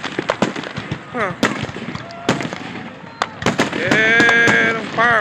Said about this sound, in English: Yeah, them fireworks.